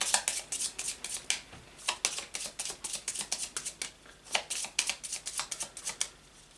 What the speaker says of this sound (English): making me shuffle the cards